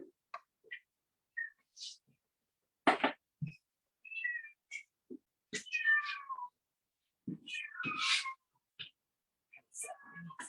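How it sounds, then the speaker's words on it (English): An outdoor cat meows loudly and repeatedly close to a window, its cries coming in irregular bursts separated by short silences, with a brief voice or two mixed in. "one of our outdoor cats was being needy and meowing very loud into the window"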